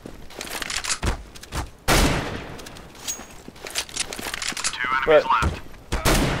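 Autosniper rifle fire in the video game CS:GO: a handful of loud, fairly spaced shots with rumbling tails, and someone talking over parts of the action.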